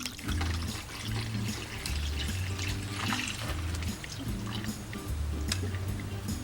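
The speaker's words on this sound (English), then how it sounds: "go ahead and just pour in your iced coffee here" Iced coffee pours steadily over ice for several seconds with a continuous splashing trickle, close up, with no voices.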